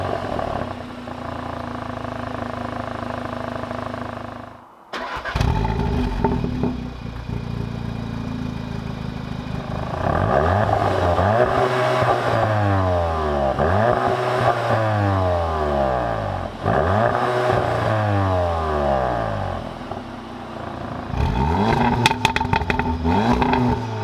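A VW Golf R and a Cupra 290 hot hatch fire up one after another, then rev repeatedly in rising and falling sweeps, loud and close, settling into idle between blips.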